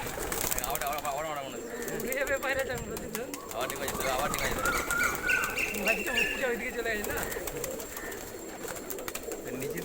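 Pigeons coo and call among a crowd of birds, with wing flaps and chatter from nearby people mixed in throughout a busy, continuous scene.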